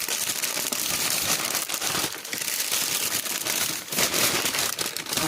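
Packing paper crumples and crinkles continuously while a graded comic is unboxed, loud and close with dense rustling bursts and no talk over it.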